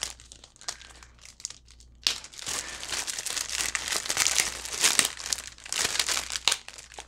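A plastic bag and sticker crinkle as a mail package is opened by hand, with quiet rustles at first and then sustained close crackling and crumpling.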